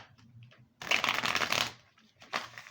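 A Gypsy Witch and Wizard Lenormand deck of cards is shuffled up close, a quick soft flutter then a dense riffling burst lasting under a second, followed by a few light card taps.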